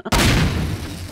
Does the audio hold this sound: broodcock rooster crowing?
no